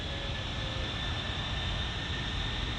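A Boeing C-17 Globemaster, the USAF four-engine military jet transport, gives a steady roaring jet drone with a faint high whine, unbroken throughout.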